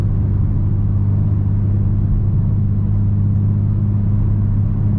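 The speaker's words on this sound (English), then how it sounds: "you might hear the exhaust note is pretty deep" A car's deep exhaust note drones as a steady, loud, low rumble at speed on the Autobahn, with constant road and wind noise and no talking.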